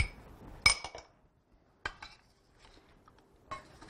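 Garlic being stirred into guacamole in a bowl: a few sharp, close clinks and scrapes of a utensil against the bowl, spaced apart with near silence between them.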